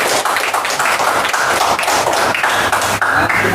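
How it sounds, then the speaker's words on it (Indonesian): Classroom applause for a student during a teacher-training physics lesson, a steady patter of many hands clapping for a few seconds with no talk over it. "kita kasih tepuk tangan untuk Putri"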